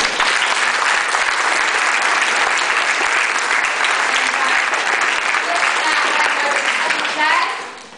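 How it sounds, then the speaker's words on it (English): An audience at a regional orchestra concert claps loudly and continuously for the young performers, a dense sustained round of applause that stops abruptly near the end. "So I want to give you a little clap right now"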